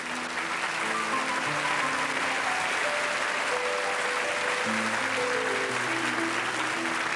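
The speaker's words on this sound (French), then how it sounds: "sous vos applaudissements" A studio audience at a televised fan show about a dance academy applauds in a continuous wash of clapping, while music plays underneath.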